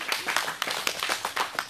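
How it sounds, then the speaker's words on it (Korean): A crowd claps at an outdoor anti-THAAD Wednesday protest rally in Soseong-ri, with brisk, dense hand claps filling a short burst at close range. "박수 한번 해주세요."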